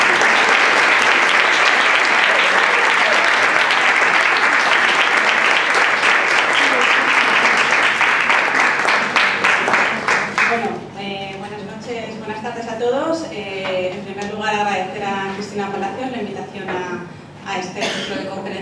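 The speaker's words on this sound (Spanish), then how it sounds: "un aplauso muy fuerte para María" At a Pint of Science 2022 talk, an audience breaks into loud, dense applause for about ten seconds before it fades and a single voice begins speaking.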